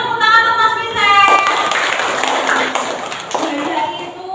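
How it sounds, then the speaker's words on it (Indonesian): Schoolchildren in a classroom burst into a round of hand clapping that follows a spoken voice, a dense patter of many claps with occasional louder single claps before it tapers off. "kita tepuk tangan untuk Mas Michel."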